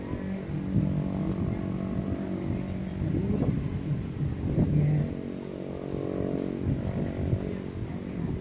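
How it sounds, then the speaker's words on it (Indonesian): An airplane engine hums steadily at Sultan Babullah airport in Ternate, a distant droning rumble that swells and fades slightly without a break. "Jadi ini sudah kedengaran mesin pesawat yang berbunyi."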